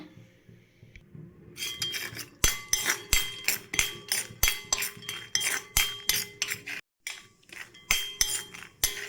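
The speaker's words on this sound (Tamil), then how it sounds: "நமக்கு வேர்க்கடலை நல்லா வறுத்துட்டு இருக்கோம்" Peanuts roasting in hot oil in a pan, stirred with a metal utensil, giving a steady rhythm of sharp clinks and scrapes against the pan at close range, with no talk.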